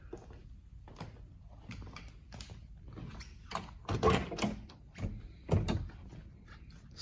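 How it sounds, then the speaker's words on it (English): Door of a 1960 Ford Starliner being opened, a series of quiet clicks and latch knocks building to a couple of louder thumps near the end, close by with no talk. "I'll open the door and show you the interior."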